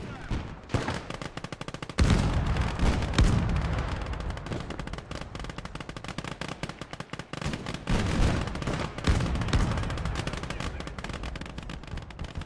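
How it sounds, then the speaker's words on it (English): Anti-tank guns and heavy gunfire in a WWII-style tank video game, with a dense rattle of rapid automatic fire broken by a few heavy booming shots that ring out and decay, loud and continuous. "They have some sort of anti-tank something here that's shooting."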